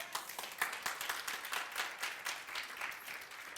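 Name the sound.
congregation applauding in church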